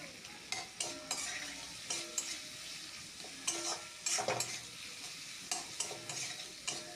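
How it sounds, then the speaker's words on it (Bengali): Potato and tomato being stir-fried with mustard-poppy paste in a pan, a steady low sizzle broken by repeated scraping stirs of a spoon, close and fairly quiet with no voices. "এরপর আলু টমেটোকে এই সর্ষে পোস্ত বাটার সঙ্গে ভালো করে কষিয়ে নিতে হবে কিছুক্ষণ নেড়ে চেড়ে"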